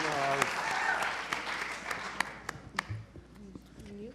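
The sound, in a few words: audience clapping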